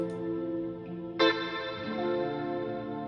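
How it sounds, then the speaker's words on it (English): Sustained tonal chords drenched in a long, washy reverb plugin effect, with a brighter swell entering partway through and ringing out smoothly. "It's like this big washy reverb."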